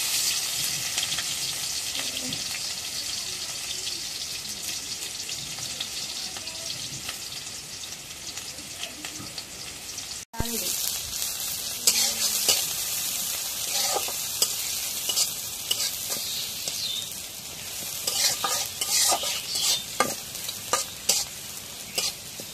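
Steady oil sizzle of green chilies and onions frying in a wok, with a brief break midway and then crackling, spattering frying with occasional scraping stirs.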